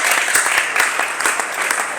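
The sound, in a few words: audience clapping for themselves at a poultry farmers' meeting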